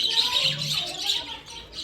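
Birds on a terrace chirp and tweet steadily in a brief stretch, bright high calls overlapping at moderate distance.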